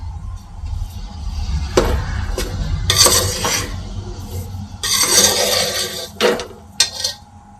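Semolina and wheat flour are mixed and roasted together in a pan for ladoos, with bursts of spoon scraping and metallic clinks against the pan coming and going up close, no one speaking.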